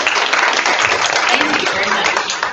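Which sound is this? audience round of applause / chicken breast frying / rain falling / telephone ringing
audience round of applause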